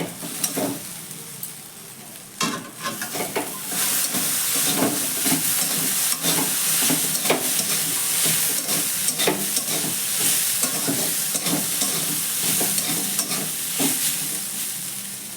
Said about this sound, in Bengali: এবার ঢাকনাটা সরিয়ে নিয়ে আবারও ভালো করে একটু নাড়াচাড়া করে দেবো।